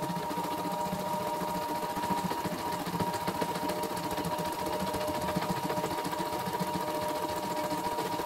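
A CNY E960 embroidery machine runs steadily, its needle hammering out a fast, even stitching rhythm over a constant mechanical hum, loud and close with no pauses, in a workshop in Tambak, Banyumas.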